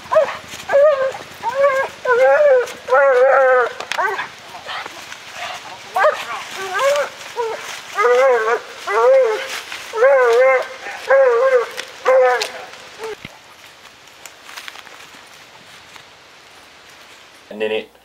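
Several hunting dogs bark and yip excitedly at a bear up a tree, with rapid repeated outdoor barking that is loud and steady for about twelve seconds before fading, mixed with some whimpers and people talking.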